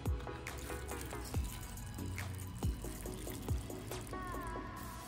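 Broth poured into an instant ramen bowl at an anime boba cafe makes a close, steady liquid trickle and splash with small gurgling pulses throughout, and no voices.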